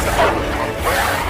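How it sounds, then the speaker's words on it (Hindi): A dog barks in a scene from the Hindi film Stree 2, a couple of close, loud woofs in quick succession with some background noise. "नीचे कुत्ता भौंक रहा है"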